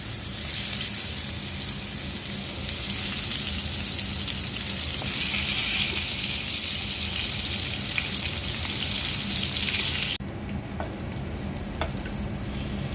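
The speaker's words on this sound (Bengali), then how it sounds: "বেগুনটা ভেজে নেব।" Eggplant frying in hot oil gives a loud, dense, continuous sizzle that runs unbroken for about ten seconds, then drops to a quieter steady crackle, heard up close with no talking.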